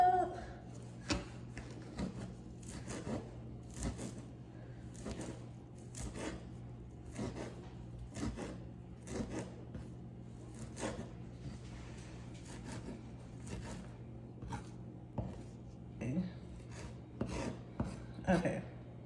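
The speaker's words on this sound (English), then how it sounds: "And then I'm just gonna chop it up." Repeated sharp knife chops on a cutting board as fresh cilantro is cut up for mango salsa, a steady irregular rhythm of close, crisp taps over a low background hum.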